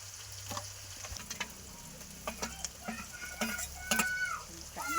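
Onions frying with turmeric and salt in hot oil, a close crackling sizzle broken by repeated stirring scrapes and clatters, with faint background sounds that could be chickens.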